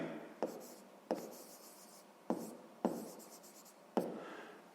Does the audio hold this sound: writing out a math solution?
yes